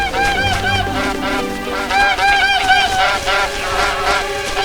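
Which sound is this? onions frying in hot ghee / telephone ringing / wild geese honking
wild geese honking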